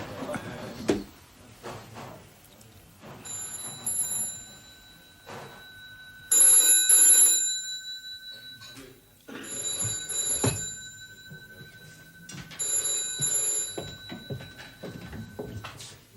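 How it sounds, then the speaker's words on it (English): A telephone bell rings in a British police drama, sounding in several bright repeated bursts that stand out loudly against a quiet room, with occasional voices speaking between the rings. "Phone."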